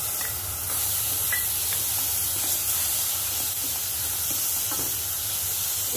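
Tomato puree for a ratalu (purple yam) sabzi hissing and sizzling steadily in a hot pan as it is added and stirred, a continuous close frying noise with no talk.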